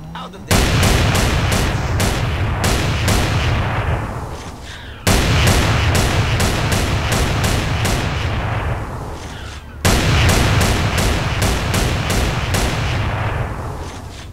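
A shotgun firing in GTA San Andreas, three loud booming blasts spaced a few seconds apart, each trailing off into a rumbling decay with faint rhythmic clicks during the fade.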